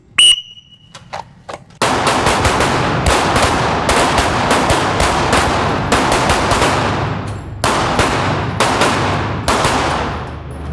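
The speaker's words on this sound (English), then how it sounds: "Nice shooting, David." Handgun shots ring out on an outdoor range during a shooting class, starting with a few separate cracks and then a rapid string of loud, overlapping shots from several shooters.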